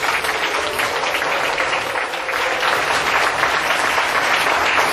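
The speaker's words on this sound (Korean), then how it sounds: "큰 박수 한번 부탁드립니다." Listeners at an author talk clap together in a steady, full round of applause lasting several seconds, swelling slightly toward the end with no speech over it.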